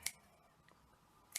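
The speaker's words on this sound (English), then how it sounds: "I'm just going to snip it around the edge" Scissors snip twice around the edge of a paper doily, about a second apart. The two short, crisp cuts are close and stand alone against near silence.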